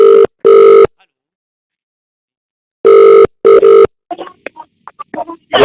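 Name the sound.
telephone line tone after the caller hangs up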